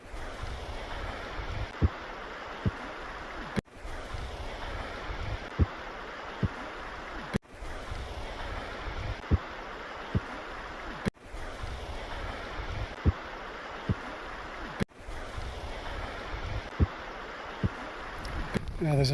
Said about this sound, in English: Behind me is this river. I just can't get through this.